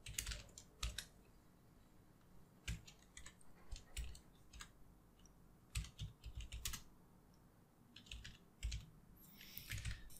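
Quiet, irregular bursts of keystrokes on a computer keyboard while typing Python code, clicking in quick clusters with short pauses between them.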